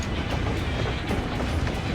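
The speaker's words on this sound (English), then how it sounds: "Now that's a train!" Train in the video game Final Fantasy XIV Dawntrail, a loud, continuous rumble with rhythmic clickety-clack wheel beats rolling steadily throughout.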